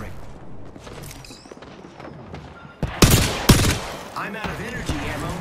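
Apex Legends gunfire: quieter game sounds and faint voices at first, then several loud, close shots and bursts in the second half, trailing off into softer clatter.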